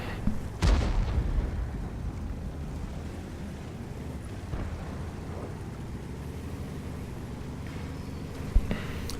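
Heavy tank cannons boom in World of Tanks, with a loud shot early on and another near the end over a continuous low rumble of engines and battle ambience.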